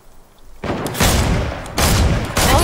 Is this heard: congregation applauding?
no